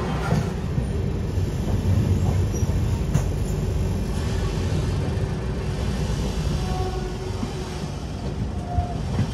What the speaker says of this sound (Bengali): এখানে প্রচুর কোল মাইন্স আছে চন্দ্রপুর এরিয়াতে, তাই মালগাড়ি করে কয়লা যাচ্ছে